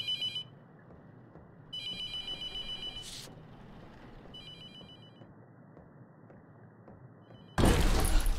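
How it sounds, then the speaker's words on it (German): A telephone rings in the horror game The Mortuary Assistant, a bright electronic trill in separate bursts over a low, quiet ambient drone, ending in a sudden loud crash of noise. "Wir sollen das Telefon ignorieren, ne? Lass uns ruhig läuten."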